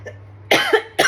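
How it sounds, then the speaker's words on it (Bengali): A woman coughs twice at close range, two short loud bursts about half a second apart, the second clipped off at the end. "এত কাশি কেন হচ্ছে বুঝতে পারছি না"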